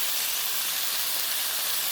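Steam hisses steadily from a pan of beef and liver cooking together, a continuous broadband sizzle-like hiss holding level throughout with no talk over it.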